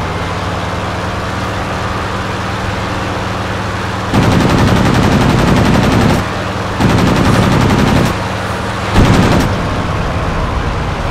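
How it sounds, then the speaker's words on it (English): Bursts of rapid automatic weapon fire from a video game ring out loudly in three separate volleys over a steady engine-like hum, with no talking. "you don't want to just spam your enemies, firing as much as you can"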